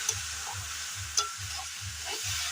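Peas fry in oil in a pan while being stirred, an even hiss overlaid with a regular rhythmic scraping roughly twice a second and one sharper clink midway.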